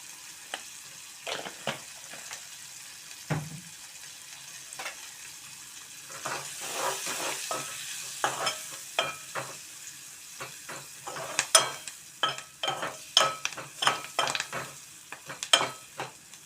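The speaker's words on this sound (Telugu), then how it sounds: "ఉల్లిపాయ ముక్కలు పెద్దగా అవసరం లేదు ఇవి కొద్దిగా మెత్తబడితే సరిపోద్ది" Chopped onions sizzle softly in hot oil in a pan for a bean and tomato curry, with bursts of crackling spatter. A utensil scrapes and stirs at irregular moments throughout, close by and with no talking.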